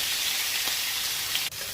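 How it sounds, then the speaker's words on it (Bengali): Pointed gourd frying in oil in a wok, a steady close hiss of sizzling oil with a couple of faint clicks from stirring, no voices. "মা প্রথমে চিংড়ি মাছটাকে ভেজে নিয়ে কড়াইয়ে তেল দিয়ে পটলটাকে ভেজে নিচ্ছে।"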